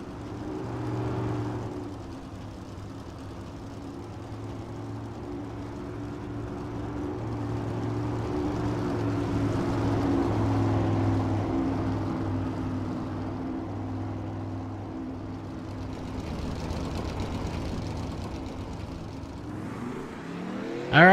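Race cars running hot laps on a racing circuit, a steady engine drone with a sustained low hum and gently rising and falling roar as cars circle, continuous throughout and ending with a sharp closer burst.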